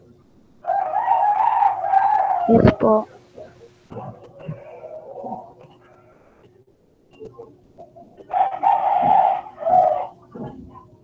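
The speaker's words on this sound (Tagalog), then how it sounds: "Daming manok." Chickens cluck and roosters crow nearby, with loud crowing calls rising and falling in several bursts, a dog barking, and a person speaking briefly amid the farmyard noise.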